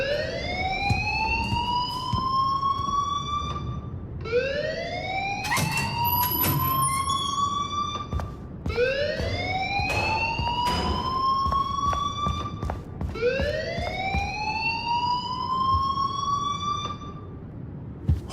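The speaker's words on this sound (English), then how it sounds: "please turn off that alarm since that's your job" Loud rising-and-falling siren alarm from the Life is Strange video game, four repeated sweeping wails with a steady tone, ringing continuously throughout with no talking over it.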